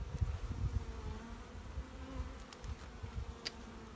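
Honey bees buzz steadily at an open hive during an inspection, a continuous close droning swarm sound with a few brief clicks and bumps from handling the frames.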